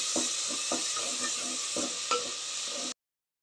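Tomato and turmeric are stirred in a hot pan during the making of carrot rice, giving a steady sizzle broken by several rhythmic scraping strokes of the spoon, close by, before the sound cuts off abruptly.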